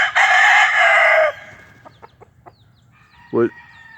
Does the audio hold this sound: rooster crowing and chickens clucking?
yes